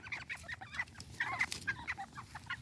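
Ducks wandering through a muddy garden beside greenhouses give off a run of quacking and clucking calls, fairly close and irregular, with soft rustling underneath and no talk.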